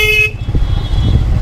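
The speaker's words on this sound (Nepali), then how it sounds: "अन्त अब हर्न त बजाउनु पर्यो।" A motorcycle horn sounds once in a short, loud toot on a narrow mountain road, then cuts off, leaving the rumble of the engine and road noise.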